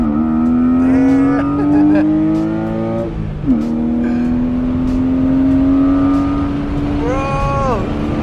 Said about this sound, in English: healthy it still sounds, too, huh?